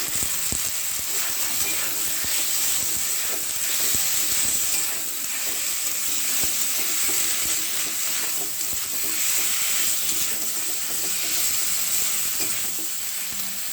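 Half-boiled potatoes sauté in a pan with onion and garlic, giving a steady close sizzle that keeps up without a break, broken by scraping stir strokes.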